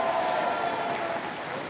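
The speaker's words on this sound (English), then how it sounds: "I hear the crowd celebrating." Crowd applause at a women's recurve archery team bronze final between Germany and Great Britain, a steady broadband wash of clapping that holds at an even level throughout with no voices on top.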